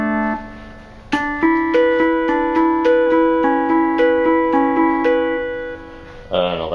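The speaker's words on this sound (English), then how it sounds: "It can sound like an acoustic guitar" A 1983 Casio DG-10 digital guitar plays a steady run of plucked, acoustic-guitar-like notes, one after another, clear and close, followed by a brief voice at the end.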